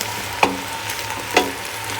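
Green beans and chopped tomatoes being stirred in a cooking pot, with a soft steady sizzle and two distinct scraping knocks of a spoon against the pot.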